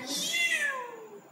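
A person imitates a cat's meow with a single drawn-out, falling, nasal mew lasting just over a second, close and clear, with no other sound around it.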